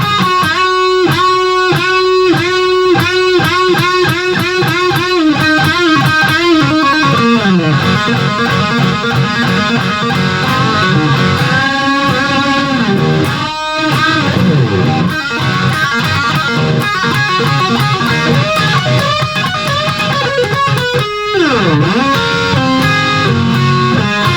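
Distorted electric guitar plays the solo from a rock song, with sustained, bent lead notes over a loud, steady rock backing track throughout, no talking.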